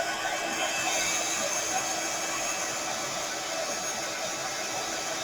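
A heat embossing tool blows hot air over inked embossing powder, a steady close whirring hiss that holds unchanged throughout.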